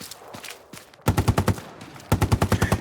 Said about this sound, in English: Now, please demonstrate proper suppressive fire.